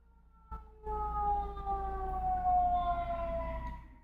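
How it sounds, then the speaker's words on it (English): Emergency sirens wail in the background, starting abruptly after a short quiet moment and holding a steady rising-and-falling tone above a low rumble of traffic. "Obviously, there's sirens in the background there"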